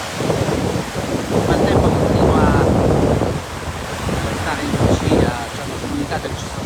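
Rough, wind-driven waves break along the Tyrrhenian coast of Sicily in the province of Messina. Crashing surf rises and falls close by, mixed with heavy wind buffeting the microphone.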